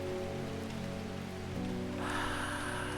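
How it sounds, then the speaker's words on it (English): Steady rain falling in the video game Strange Horticulture, a continuous soft patter with a droning background tone, growing a little brighter and denser toward the end, with no voices. "Well, it is raining."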